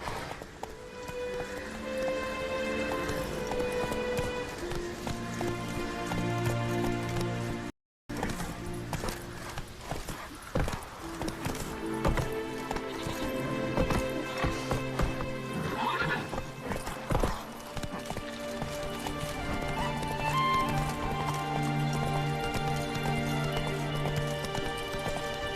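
The horse Roach gallops in The Witcher 3, with fast, steady clip-clop hoofbeats over layered game music. A neigh comes partway through and a brief gap of silence breaks the run.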